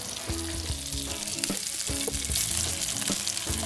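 Fish searing in butter in a hot pan, loud and close, with a constant frying hiss broken by sharp crackles and spits, and some faint clanking underneath.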